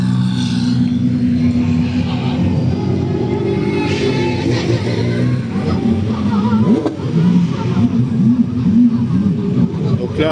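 GT race cars, including Ferrari and Porsche machines, accelerate past at the 12 Hours of Spa-Francorchamps, a loud, continuous engine roar with rising and falling revs and a nearby crowd murmur.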